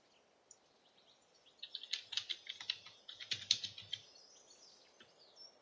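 Someone types a short burst on a computer keyboard, quiet, rapid clicking keystrokes bunched in the middle of the clip against a near-silent room.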